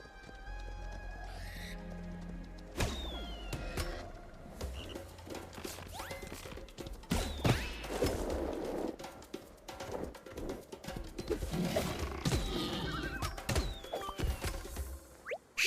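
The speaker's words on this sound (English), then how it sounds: "I hear hooves." Running animal hooves in The Survivalists video game, a scattered clatter of hoofbeats mixed with other game sounds and sharp effects, moderately loud, with no talking.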